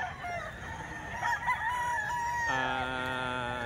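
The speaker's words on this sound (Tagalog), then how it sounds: "At si Kuya Javier may dalang 18 manok." Roosters crow repeatedly among a batch of eighteen chickens brought to market in Bukawi, loud and close, with one long crow stretching across the second half over steady background noise.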